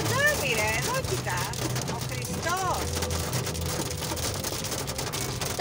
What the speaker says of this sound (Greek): Χαλάζει κανονικό! Θα σπάσει το τζάμι!